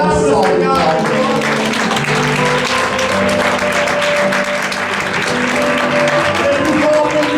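A church congregation claps during a morning service, a steady wash of applause layered under music with sustained tones and a voice speaking over it throughout.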